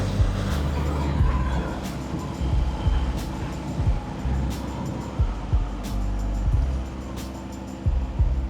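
Royal Enfield Meteor 350 motorcycle engine on a highway, steady low rumble with wind noise while the rider shifts down through the gears to slow, with brief clicks and surges between shifts.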